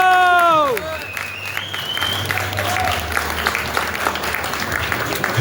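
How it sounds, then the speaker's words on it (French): Audience applause at the Japan Game Festival 2025, a steady mass of clapping from a crowd that carries on for several seconds after a brief tonal sound at the start, with voices mixed in. "Les applaudissements parlent d'eux-mêmes."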